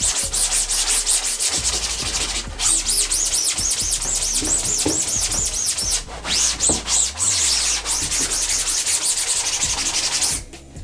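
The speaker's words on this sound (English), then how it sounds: "you can spend a little bit more time scrubbing that and getting it good" Hard, rhythmic scrubbing of emulsion off a screen-printing screen, a loud rasping brush stroked back and forth in quick repeated passes, close and continuous with brief pauses.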